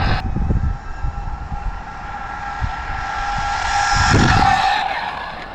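Arrma Outcast RC car running at full throttle, fitted with a 2S LiPo, a high electric motor whine rising and swelling as it speeds past, with bursts of tyre scrub and gravel.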